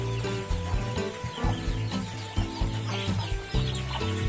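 Hens cluck repeatedly in a busy, overlapping chorus, close by and fairly loud, with steady rhythmic clucks throughout.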